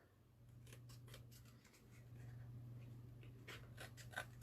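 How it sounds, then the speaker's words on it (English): Scissors snip through grey board in a series of short, crisp cuts, close and fairly quiet, over a steady low electrical hum. "I'm going to cut a little bit of the grey board."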